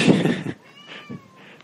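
A house cat meows softly in a room after a person speaks, with thin drawn-out cries trailing under quiet background.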